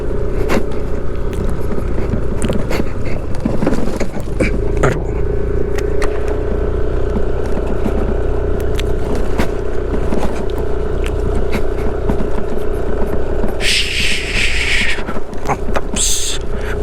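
A steady motorcycle engine drone runs throughout as it rides over the hard-packed volcanic sand sea at Mount Bromo, Indonesia, with a brief hissy burst of noise near the end.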